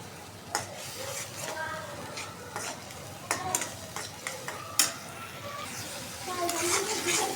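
Spices stirred in a pan for a shrimp curry with potato and drumstick stems: turmeric, chili, coriander and ginger-garlic paste scraped about with a utensil, a quiet sizzle under scattered clinks and scrapes, with talk in the background.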